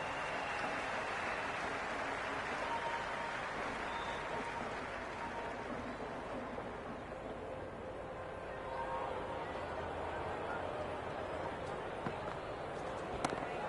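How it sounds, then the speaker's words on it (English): Crowd noise at a T20 cricket match between Mumbai Indians and Islamabad United, a steady wash of applause and cheering that stays loud throughout with a slight swell near the end. "all these spectators here today completely enthralled and energised, judging by that noise anyway"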